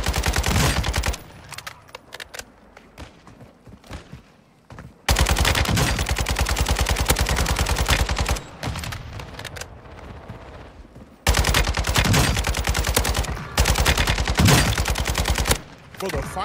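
Rapid full-auto bursts from an ISO submachine gun in Call of Duty: Warzone, several long loud strings of fire broken by short pauses, with quieter game noise between bursts.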